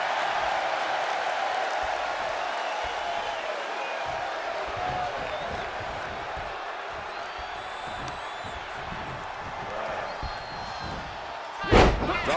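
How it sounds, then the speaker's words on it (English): A loud, steady roar from an arena crowd in the WWE 2K23 wrestling game, continuous throughout and rising slightly near the end, with a sharp slam-like hit just before it finishes. "The sound of this crowd is deafening"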